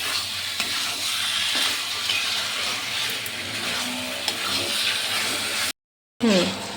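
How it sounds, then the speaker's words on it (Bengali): Chicken mince, seasoned with salt and turmeric, is sautéed in oil in a pan, giving a steady loud sizzle with scraping stirs throughout, then a brief gap before a clatter at the end. "ভালো করে কষাবো যতক্ষণ না তেল ছাড়বে।"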